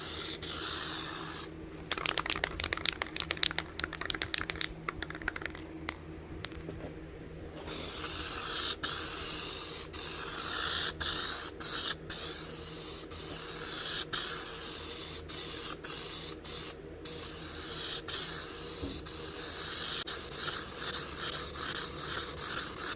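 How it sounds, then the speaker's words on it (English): An aerosol can of spray adhesive spraying onto the headliner of a 1995 Ram 1500 truck, first in a few short bursts, then in long continuous hissing blasts broken by brief pauses, close and loud. "It sprays really nice, then it doesn't."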